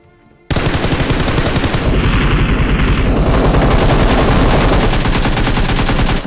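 Sustained automatic gunfire in a battle royale video game, dense rapid bursts running almost continuously for several seconds after a short quiet start, loud and close with no talk over it.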